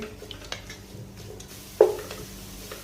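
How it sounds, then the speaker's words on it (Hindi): Sliced onions fry over a high flame in a pan for a mutton curry, giving a soft, steady sizzle under light stirring clinks, with a sharper scrape of the utensil partway through. "प्याज को हाई फ्लेम के ऊपर हम लाइट सा गोल्डन करेंगे।"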